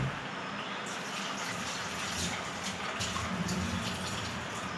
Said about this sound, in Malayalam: ഒരു സ്വല്പം കൂടെ വെള്ളം നമുക്ക് ഒഴിക്കാം